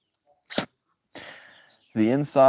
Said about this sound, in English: Suddenly a sneeze comes on.